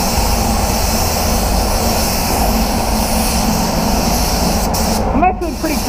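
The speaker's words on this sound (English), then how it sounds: "I love spraying clear with it" A spray gun laying clear coat on a Range Rover Sport in a paint booth, a loud continuous hissing rush that holds steady throughout, with a brief higher squeal near the end and no speech.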